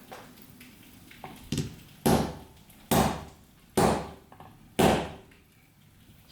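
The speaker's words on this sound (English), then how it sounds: "just lightly hammer the end of all those fixings in the hope that they have imprinted onto the wood" Light hammer taps on wooden board over metal fixings: a few small taps, then four louder, evenly spaced strikes about a second apart, close by, with no talk.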